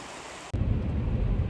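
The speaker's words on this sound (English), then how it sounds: "Kootenay River." Kootenay River running beside a campsite in the mountains of Kootenay National Park, a steady broadband rushing of flowing water that cuts in abruptly after a quieter half second, then holds loud and close with no talk.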